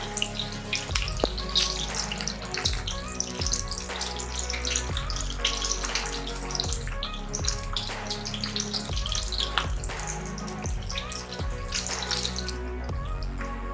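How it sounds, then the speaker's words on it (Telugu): Chicken pakoda pieces bubble and sizzle in hot oil, a dense continuous frying hiss close up, with faint low thumps as pieces are dropped in one by one. "ఆయిల్ హీట్ ఎక్కిన తర్వాత ఈ విధంగా ఇందులోకి ఆయిల్లో వేసుకోవాలి."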